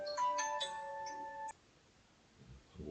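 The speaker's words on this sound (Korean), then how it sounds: "왜 이렇게 광고 전화 옵니다." An incoming advertising call sets a phone ringtone chiming: a short run of bright repeated electronic tones for about a second and a half, then it cuts off into quiet room noise.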